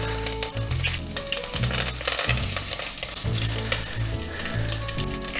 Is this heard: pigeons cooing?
no